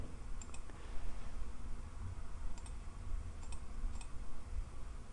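Faint, sharp mouse clicks while working in Autodesk Inventor CAD software, a few isolated clicks and a quick double click scattered over steady low room hum, with no speech.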